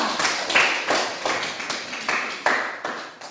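A small group claps in a classroom for a student group during a civics teaching assessment, several distinct, fairly close hand claps in an irregular rhythm with brief pauses, loud and dry without talk.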